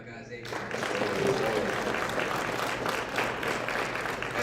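Audience applause at a business funding event, a dense, sustained wash of clapping that swells after a brief start and holds steady, with voices mixed in underneath.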